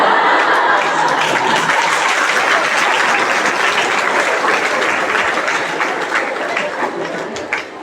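A lecture audience bursts into loud, sustained applause that gradually thins and fades toward the end, with a few chuckles mixed into the clapping.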